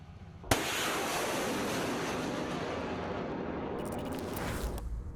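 A HIMARS rocket launcher fires from the deck of an amphibious transport dock: a sudden sharp blast, then a sustained loud roaring rush of rocket exhaust that holds steady for several seconds before tailing off.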